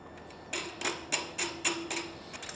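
A metal wing nut is spun onto a threaded stud while fitting a windscreen on a Honda VFR800 V4 motorcycle, giving a close series of about eight light, evenly spaced clicks and taps.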